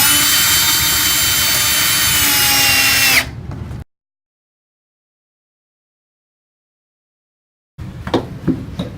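A power tool drives screws into a mounting plate during sit-stand desk assembly, a loud continuous whir for about three seconds that cuts off abruptly, followed by silence and then faint handling clatter.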